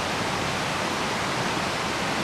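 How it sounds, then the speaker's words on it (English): Rushing water of Matterhorn Creek along a mountain trail, a loud, constant, dense roar with no pauses and no voices. "Following Matterhorn Creek, the constant sound of rushing water fills the air to the brim."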